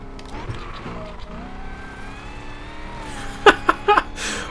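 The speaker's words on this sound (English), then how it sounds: "Oh my, I can listen to that all day. That would never get old. And the exhaust note sounds good too." A car's exhaust note rises and falls in a couple of revving sweeps, then short sharp tire squeals chirp near the end, moderately loud and close with no talking.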